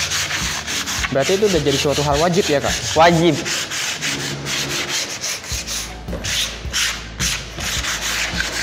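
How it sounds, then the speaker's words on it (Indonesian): Hand sanding across a plywood surface being prepared for HPL finishing, a steady scratchy rubbing in repeated back-and-forth strokes, close by, while two people talk briefly over it. "kita sekarang ngamplas bagian ini dulu"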